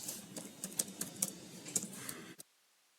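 Rapid, close clicking of keys typed on a computer keyboard, irregular taps for about two seconds before stopping abruptly into silence.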